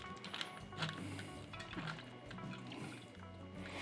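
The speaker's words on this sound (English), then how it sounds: "Trying not to splash too much because it's kind of coming down in big clumps, and that looked like a chunk of ice." Slushy liquid carrying ice chunks is poured into a brewing kettle for a papaya mango kettle sour, with irregular splashing, plops and trickling that come in uneven bursts at low level.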